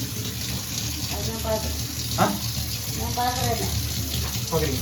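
Water runs from a leaking pipe in a continuous, moderately loud stream. Voices talk at intervals over the flow, with a brief splash partway through.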